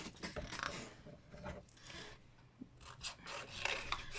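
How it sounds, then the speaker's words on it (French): Scissors cut out a paper scrapbooking embellishment close by, a continuous soft rasping and snipping of paper with quiet rustles throughout. "Et ça, je vais le découper."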